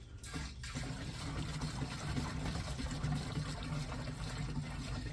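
Gasoline pouring from a TuffJug gas jug with the spout lid removed, a steady continuous liquid splash and gurgle close up, running without a break.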